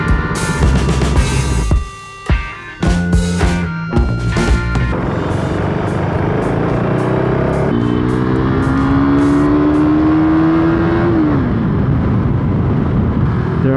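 An overheating KTM RC 390 motorcycle in a Nepal traffic jam, its engine loud and close, revving in sharp bursts with brief gaps, then a steady roar as the pitch climbs through the gears.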